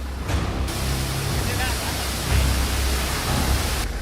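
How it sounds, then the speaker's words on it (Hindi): Torrential monsoon rain and rushing floodwater in Rajasthan, with rivers and lakes overflowing: a steady, loud broadband roar of water that holds constant throughout, swelling slightly midway, with no voices. "मूसलाधार बारिश से नदियां और झीलें ओवरफ्लो"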